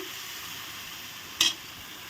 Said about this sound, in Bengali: ভালো করে কষিয়ে নেব আর একটু জল দিয়ে